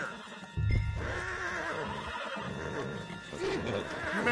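A horse whinnies loudly in Red Dead Redemption 2, the call rising over a steady rumble of game sound and faint hoofbeats, with no talk during it.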